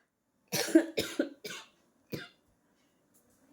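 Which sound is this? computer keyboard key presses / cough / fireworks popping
cough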